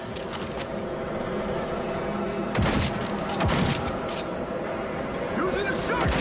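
Shotgun blasts in the video game Cyberpunk 2077 land as a few heavy booming shots amid dense gunfire, crackling impacts and background game noise, loud and close throughout.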